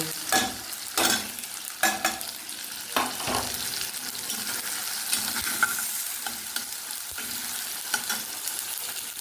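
Turmeric, chilli and cumin powder sizzle in a pan for pabda fish curry, with repeated scraping stirs over a steady soft frying hiss, close and quiet, no talk.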